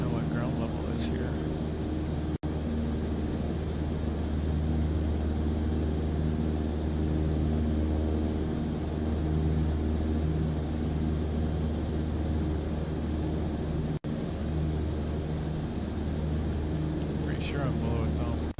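Steady drone of a Cessna's propeller engine in flight in Microsoft Flight Simulator 2024, a constant loud hum held throughout, with someone talking over it.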